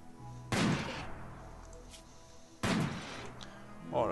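Gunfire in the RimWorld video game as a colonist takes bullets: two sharp, loud shots spaced about two seconds apart, each with a short decaying tail.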